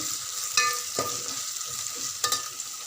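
A spoon stirs turmeric into ginger-garlic paste in a hot pan, giving a few scraping strokes over a soft, steady sizzle, close by with no voices.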